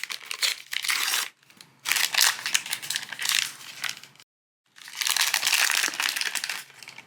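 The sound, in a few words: tearing open a plastic packet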